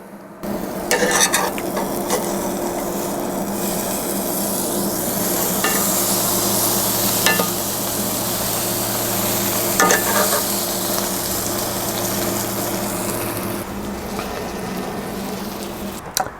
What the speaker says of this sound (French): maintenant on toaste le sandwich des deux côtés à basse température